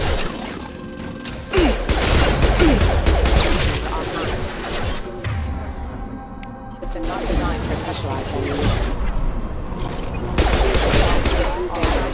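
Sustained gunfire and crashing impacts fill a firefight in the video game Mass Effect Legendary Edition, with bursts of shots and clanks rolling on loud and dense, mixed with voices.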